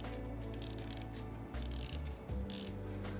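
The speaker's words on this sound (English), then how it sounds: "let's hear the bezel action" A Squale SUB-3920 dive watch's rotating bezel is turned in three short bursts of crisp ratcheting clicks, close and quiet, over a low background hum.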